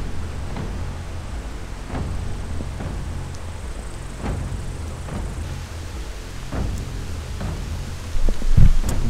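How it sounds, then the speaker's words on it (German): Steady rain falls outdoors while thunder rumbles in several low, rolling bursts, the last one closer and louder, with no talk. "Wir haben jetzt den Regen einfach ausgesessen."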